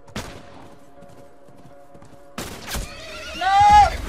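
Horse in The Last of Us video game, a sharp impact and scattered clatter, then a loud close whinny rising near the end.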